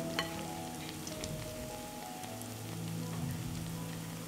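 Stretched dough, Balkan mekike, frying in hot oil makes a continuous crackling sizzle with scattered pops, steady and close throughout, with a faint low hum underneath.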